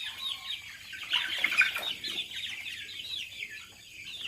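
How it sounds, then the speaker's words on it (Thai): Chickens of various breeds cluck in a dense, steady chorus on a farm that also keeps peacocks, fairly close and continuous with no talking. "แล้วก็เป็นไก่สายพันธุ์ต่างๆนะครับผม"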